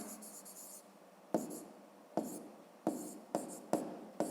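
A pen writes on paper during a fifth-grade maths lesson, with quiet scratchy strokes in short bursts separated by taps and pauses, close and faint.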